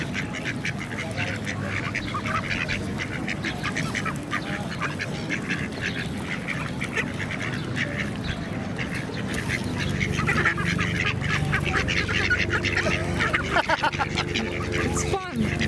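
Ducks and geese on the Queenstown quayside, a busy flock quacking and honking continuously close by, with people talking over the birds throughout.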